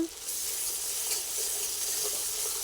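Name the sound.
spices sizzling in oil for desi chicken recipe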